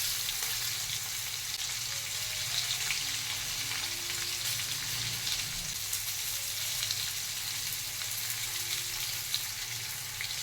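Chopped ginger sizzles steadily in a hot pan while being stirred for a curry with green chillies, a continuous close frying hiss with soft scraping, no talk.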